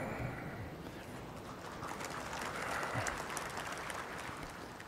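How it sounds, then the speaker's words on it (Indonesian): An audience claps at a political speech in Indonesia, a dense, sustained wash of applause that swells slightly midway, heard from within the crowd with no talk over it. "Jangan terlalu sering tepuk tangan."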